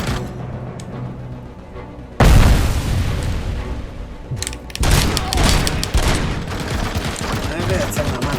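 Machine gun fire in the video game RoboCop: Rogue City, loud sustained bursts of rapid shots that erupt suddenly, pause briefly, then resume, mixed with booming impacts and faint talk.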